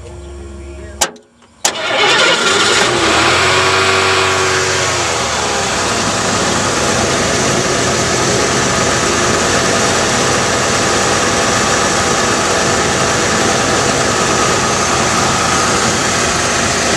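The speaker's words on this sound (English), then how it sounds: "we'll try getting the engine started here" A 1989 Lincoln Town Car engine cranks briefly, catches with a sharp surge of revs, then settles into a loud, steady idle that runs on close to the microphone.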